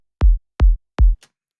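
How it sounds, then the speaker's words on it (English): A psytrance kick drum built from a template kick strikes three times in an even rhythm, each hit punchy, deep and close, ending with a faint short tick. "So the kick sounds like this."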